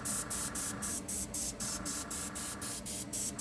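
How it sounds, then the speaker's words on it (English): An airbrush sprays bursts of cold air onto alcohol ink, a steady hiss cut into regular short pulses about three times a second, close and fairly loud with no talking. "the airbrush is just blowing cold air, so it's not drying the ink as a heat gun or a blow dryer would"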